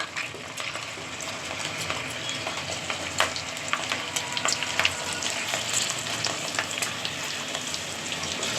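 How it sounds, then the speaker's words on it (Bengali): Lentils frying in hot oil for spicy homemade chanachur give a steady, dense sizzle with scattered crackles and pops, close and loud throughout, with no voices. "ডালগুলো এইভাবে আবার ভেজে নেব।"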